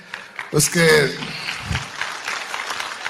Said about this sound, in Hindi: आप लोग ताली तो बजा रहे हैं